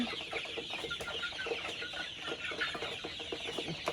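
Several Egyptian Fayoumi hens cluck continuously nearby in a busy, overlapping chatter, with soft scratching and rustling underneath.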